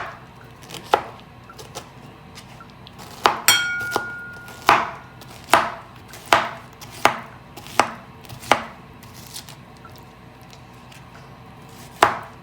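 A knife chops vegetables on a cutting board for Vietnamese vegetarian sweet and sour soup, a dozen or so crisp, close strikes in an uneven rhythm with short pauses between them, with no talk.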